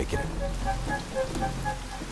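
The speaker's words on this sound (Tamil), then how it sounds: "எவ்வளவு மழை" Heavy rain falls as a steady hiss with scattered drops tapping on surfaces, while someone speaks briefly over it.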